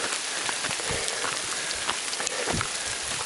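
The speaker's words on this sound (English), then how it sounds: "we are getting some pretty good hail again to the top here" Hail falls on hikers at the Grand Canyon during a rim-to-rim-to-rim run, making a dense, continuous patter of small ice pellets striking ground and gear, fairly close and steady with no voices.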